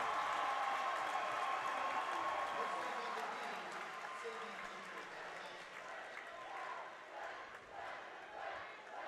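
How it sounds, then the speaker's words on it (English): A college gymnastics meet crowd, including a student section, bursts into loud cheering and applause, strongest at first, then settling into a lively, rumbling ovation. "You can hear the crowd. They are loving what they got to witness."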